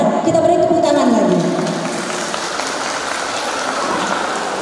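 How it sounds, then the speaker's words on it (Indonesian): Audience applause after a women's choir performance at a choir competition, a loud burst of clapping at the start with a voice over it, then settling into steadier, softer clapping. "Kita beri tepuk tangan lagi."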